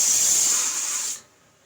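Steam hisses sharply and steadily from a pressure cooker whistle while turmeric-seasoned food cooks, then abruptly cuts off after about a second, leaving near silence.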